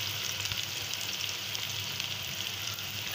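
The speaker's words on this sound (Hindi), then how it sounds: "अब इसमें हम प्याज डालते हैं। प्याज को हम ब्राउन कर लेंगे।" Sliced onions sizzle and fry steadily in very hot oil in a pan, a dense, continuous close crackle with no voices over it.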